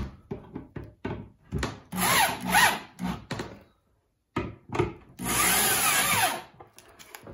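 Power drill driving screws into a tension screw frame for screen printing, several bursts of whirring and grinding screw-in runs separated by short pauses, close and loud, no talking.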